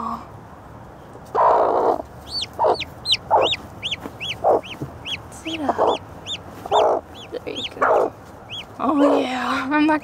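A broody hen clucks softly beside her newly hatched chick while high, repeated chick peeps ring out above, in a hen house in the morning; a person talks gently throughout between the clucks.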